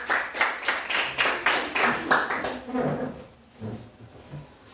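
Classroom audience clapping for a student group after a presentation, a rhythmic round of hand claps that fades after about three seconds into quiet room noise and a few faint sounds.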